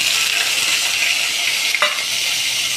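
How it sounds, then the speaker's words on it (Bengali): Green chillies hit hot oil in a pan with whole cumin and are stirred, making a steady, loud sizzle with a brief scrape of the spatula partway through. "কাঁচা লঙ্কাগুলো দিয়ে অল্প নাড়িয়ে নিলাম, বেশি নাড়াবো না"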